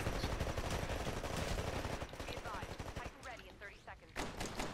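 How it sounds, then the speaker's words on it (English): Gunfire in the Titanfall video game: dense, loud bursts of rapid shots fill the first half, then a thinner stretch of sharp single reports with some tonal effects, all close and energetic. "Pistol shot."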